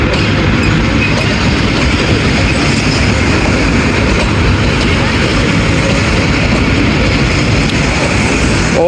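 The Awam Express locomotive notches up and pulls an overloaded train out of Attock City Junction, a loud continuous diesel rumble with rolling wheel and carriage noise filling the whole stretch.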